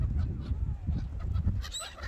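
Seagulls and crows call outdoors where many birds gather to feed, producing a short burst of honking, squawking cries close by and at moderate volume.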